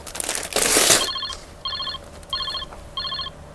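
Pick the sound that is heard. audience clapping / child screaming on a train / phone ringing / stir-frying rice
phone ringing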